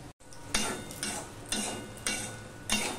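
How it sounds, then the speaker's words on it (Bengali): Potatoes fry in a pan with a soft steady sizzle, broken by several clinks and scrapes of a utensil stirring against the pan at a slow, uneven pace. "দেখো আলুটাও ভাজা হয়ে গেছে"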